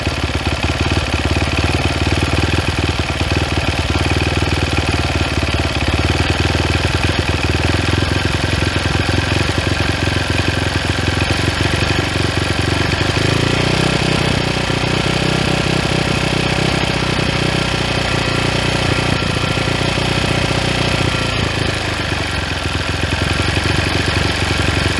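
A new 2022 SSR SR300 Chinese dirt bike engine idling steadily and loudly up close, its pitch climbing partway through as the idle rises and holds higher, then settling slightly near the end.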